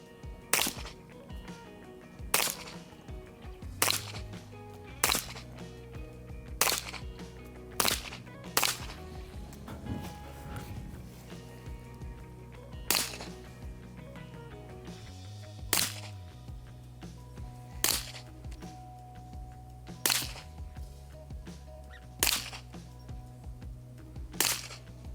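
A Dan Wesson 1911 .45 pistol fired in a slow, steady series of sharp, loud single shots, about a dozen spaced a second or two apart, over a low background hum.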